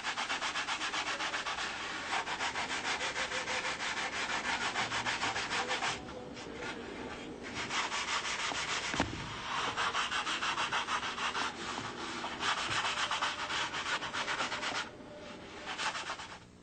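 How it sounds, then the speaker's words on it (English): Repetitive back-and-forth rasping of a sanding block with 400 grit sandpaper on wooden wing ribs, in rhythmic strokes with a couple of brief pauses, close and clear. "Sanding block, 400 grit paper to block sand in all the ribs."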